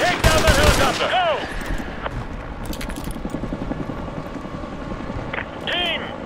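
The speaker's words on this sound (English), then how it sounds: "We got a visual on a pair of enemy attack helicopters headed for your area." Enemy attack helicopter and bursts of gunfire in Call of Duty Modern Warfare 2 Remastered: sharp rapid shots at the start, then a rumbling rotor drone with scattered shots, and voices in between.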